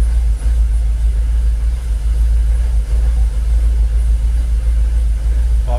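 A Jaguar XKR engine idles at about 800 RPM just after startup, with no throttle applied: a steady, loud, low rumble that holds even and unbroken throughout.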